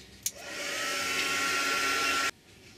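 A handheld hair dryer switches on with a click and roars steadily at close range for about two seconds while drying a piece of handmade mail art, then cuts off abruptly.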